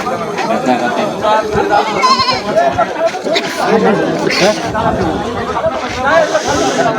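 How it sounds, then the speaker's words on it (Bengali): Goats bleat repeatedly at the Rupdia goat market in Jashore. The calls sound close and overlap with a dense crowd chatter and people talking nearby. "ছাগলের হাটে আসলাম"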